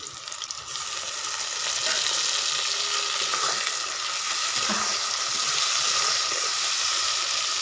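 Chopped tomato and onion frying in a pan, a loud bright sizzle that swells as the tomato goes in and then holds as a continuous hiss.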